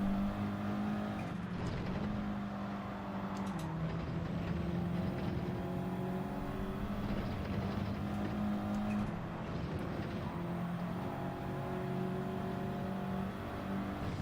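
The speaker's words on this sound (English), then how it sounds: "As the Suzuki Swift comes barging through" A Suzuki Swift race car's engine drones steadily and loudly in Gran Turismo 7, pitch rising and falling with gear shifts as it barges past to overtake, other racing engines blending in.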